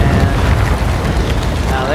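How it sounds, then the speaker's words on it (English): Airstrike explosion in the game Second Extinction, a loud, sustained rumbling boom filling the whole two seconds with no break. "Throw an airstrike on that, because that's a spawner thingy."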